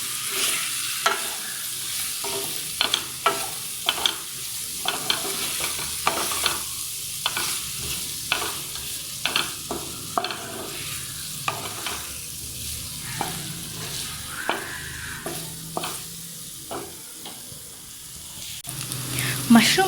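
Fried mushrooms are stirred into a pan of capsicum for a mushroom pepper fry, with a soft continuous sizzle under repeated sharp scraping strokes of a spatula against the pan.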